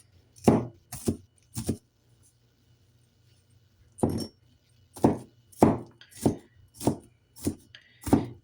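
A knife chops through a single onion on a cutting board in a kitchen, with about ten sharp, close chops. There are two quick strokes, then a long pause, then a steady run of cuts.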